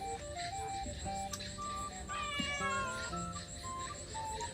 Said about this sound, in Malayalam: പൂച്ച വരെ കരയാൻ തുടങ്ങി